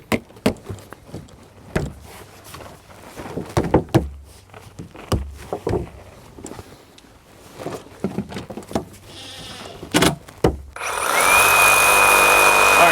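A power drill drives fasteners into Trex composite deck boards, with short bursts and knocks scattered through the first part, then a loud sustained whirring run near the end.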